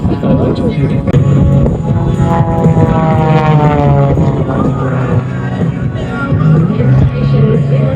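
A propeller aircraft engine drones loudly and continuously at an airshow, its pitch shifting slightly as it flies, with voices talking underneath.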